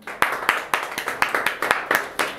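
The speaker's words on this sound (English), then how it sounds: "Give a clapping, everybody, come on." A small audience claps hands in a steady, fast rhythm of sharp, evenly spaced claps that fills the room, close and lively, with no talking over it.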